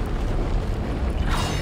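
An exploder necromorph bursting in Dead Space, a dense low rumbling boom that swells and holds at full loudness for under two seconds, with a brighter crackling burst rising near the end.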